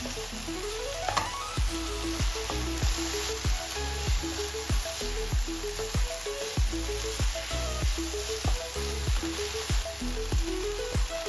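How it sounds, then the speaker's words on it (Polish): Four cloves of garlic, pushed through a press, fry in a pan with a continuous soft sizzle. Rhythmic music with plucked tones and regular beats plays over the frying throughout. "wyciskam przez praskę 4 ząbki czosnku i podsmażam przez chwilę, aż czosnek zacznie intensywnie pachnieć"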